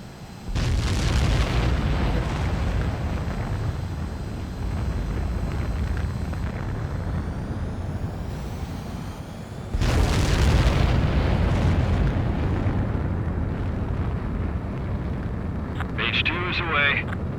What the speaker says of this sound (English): Mage 2, begin takeoff sequence.